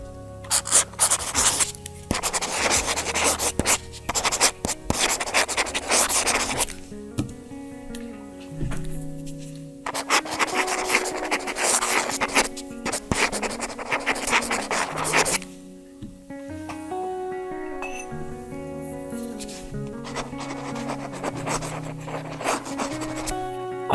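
A stylus scratches and rubs across the rough screen protector of a Boox Note Air e-reader, making loud, gritty bursts of writing strokes separated by brief pauses, with music playing underneath.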